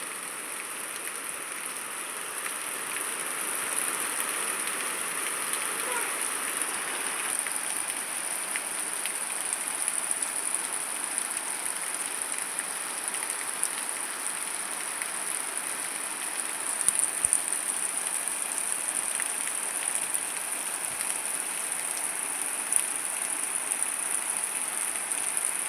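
Steady rain falls at night during a power cut, the first rain of 2025 after a hot spell, an even wash of soft hiss that runs unbroken and fairly faint throughout.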